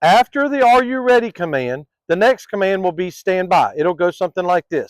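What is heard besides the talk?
No distinct noise like a dog, phone or traffic.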